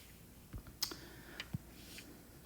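Quiet, close keystrokes on a computer keyboard as numbers are typed into an online calculator, just a handful of light clicks in a short burst.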